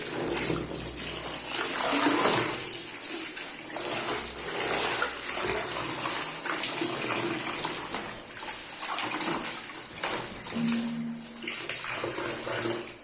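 A saree is rinsed and swished in water, a continuous splashing, sloshing wash that stays close and fairly loud throughout, with no speech.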